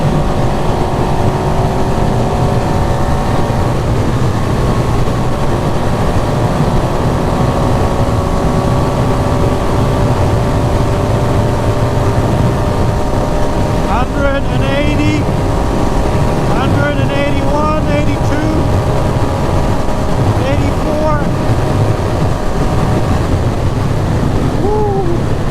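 A 2022 KTM 690 Enduro R single-cylinder motorcycle pulls hard on the Autobahn, its engine note climbing steadily through gears under heavy constant wind roar, with a few brief rising tones near the middle.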